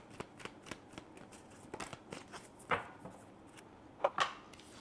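Tarot oracle cards shuffled and drawn by hand, giving a steady run of soft riffling flicks and papery slaps, with a couple of sharper snaps near the end, close and fairly quiet with no talking.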